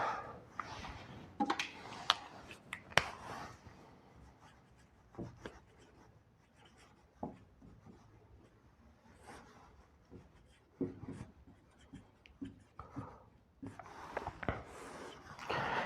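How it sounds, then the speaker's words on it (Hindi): Writing on a board during a classroom-style lesson, with intermittent scratchy strokes and taps in bursts, close and fairly quiet, separated by short pauses, no talking. "तो देखो, मैं लिख देता हूँ एक बार।"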